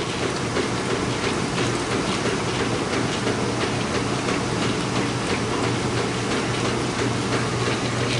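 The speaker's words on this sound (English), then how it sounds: "This one's washing, this one's rinsing." Two outdoor laundromat washing machines, one in its wash cycle and the other rinsing, give off a steady, dense churning rumble with a low hum, unbroken and fairly loud throughout, with no talking.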